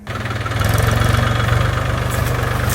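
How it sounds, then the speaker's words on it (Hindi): A tractor engine idles on a sugarcane farm, a steady, close low chugging with a regular rhythmic knock throughout, no voices over it. "अभी देखिए ट्रैक्टर की आवाज़ आ रही"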